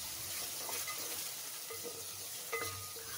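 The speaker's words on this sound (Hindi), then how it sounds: "यहाँ पर हमने फ्लेम को मीडियम किया हुआ है, अगर ज़्यादा हाई फ्लेम करेंगे तो प्याज जल जाएगी।" Chopped onions frying in oil over a medium flame for a dhaba-style lauki chana dal, giving a steady soft sizzle with occasional stirring scrapes, close and continuous, no voices.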